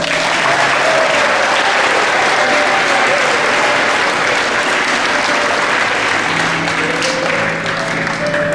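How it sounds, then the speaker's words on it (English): A school audience at a Snowfest coronation applauds the newly crowned royalty with loud, continuous clapping from a large crowd, holding steady for over eight seconds. "Let's give them all a round of applause."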